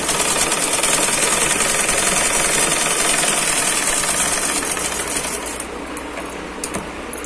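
A sewing machine runs continuously up close, stitching a blouse of sequined fabric with a fast, even mechanical chatter that slows slightly near the end.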